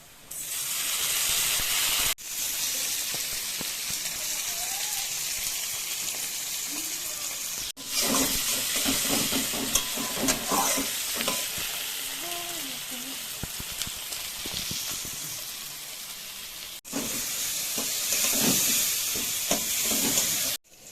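Chopped onion and tomato fry in a pan for masala dosa filling, a steady loud sizzle running throughout with scraping stirs and clinks of the spatula, broken by a few brief pauses.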